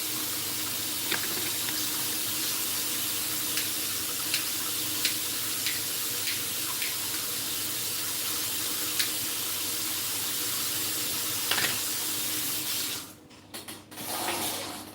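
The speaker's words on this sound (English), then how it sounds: "Yeah, so I run the faucet over." Water from a faucet runs steadily into a sink, a continuous broadband wash broken by faint clicks and clinks, before cutting out near the end into brief irregular splashes.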